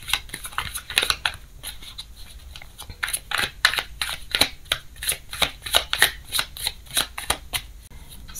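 Tarot cards riffle-shuffled close up in repeated crisp bursts, a steady rhythmic flutter of flicking card edges with short pauses between shuffles, with no voices.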